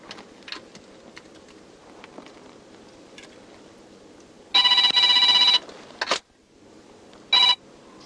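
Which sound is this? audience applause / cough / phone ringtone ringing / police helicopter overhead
phone ringtone ringing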